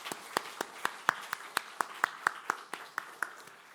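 A church congregation at a Sunday worship service applauds the teachers with about fifteen sharp claps in a slow, steady, unified rhythm, moderately faint against a quiet room.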